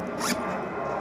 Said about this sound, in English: side zip